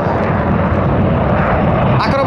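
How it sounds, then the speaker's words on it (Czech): An Extra 300 aerobatic plane and a JAS-39 Gripen fighter fly at the Čáslav aerodrome air display, producing a loud, constant engine roar with a voice speaking over it. "Akrobatický speciál a bojová stíhačka."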